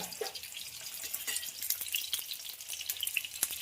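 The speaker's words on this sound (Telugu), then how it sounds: "ఆయిల్ కలిపినాక 3గా కాట్లు పెట్టుకుని ఎగ్గులన్నింటినీ అందులో వేసేస్తుంది." Scored eggs frying in oil with salt and turmeric, a soft crackling sizzle with scattered pops and small spatters, fairly quiet and close.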